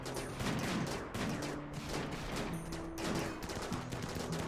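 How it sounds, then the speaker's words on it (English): Rapid bursts of gunfire from a RimWorld colony battle against a T-Rex, dense overlapping shots crackling continuously for several seconds with a steady loud wash and no talking. "they're just kind of confused by all the shooting going on"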